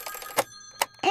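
A telephone rings in short, bright electronic bursts, close and clear, with a couple of quick pulses over about a second.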